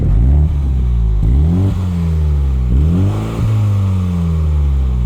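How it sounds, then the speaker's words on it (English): A nearby 2021 Mini Cooper JCW GP engine revs up repeatedly, rising in pitch with each blip before dropping back to idle, loud and with no talking. "I'll give it some revs for you."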